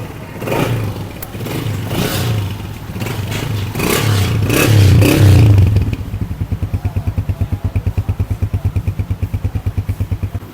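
A Honda CG 125 motorcycle engine revs loudly, then settles into a steady, rhythmic idle with even pulsing thumps, close by.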